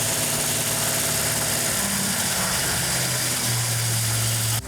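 A Dodge Charger R/T engine idles steadily after cam break-in, a continuous close, loud low rumble with a slight drop in pitch toward the end, and no voices.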